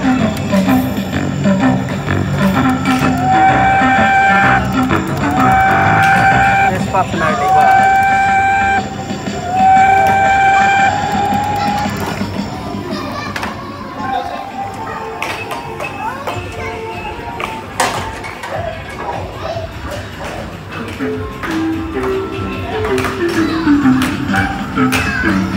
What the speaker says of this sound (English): And that was the Photo Loco Kiddie Ride by Amutec.